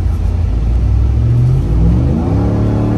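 Ram TRX under acceleration, a steady loud engine rumble with rising tonal whine layered over it as the revs climb, no talk.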